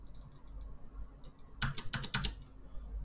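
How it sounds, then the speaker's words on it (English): Faint typing on a computer keyboard, a few light taps, then a quick burst of several louder, closer keystrokes in a rapid run before quiet returns. "Maybe I gotta type it again."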